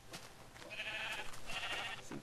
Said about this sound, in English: Herd of sheep trying to eat Betsy.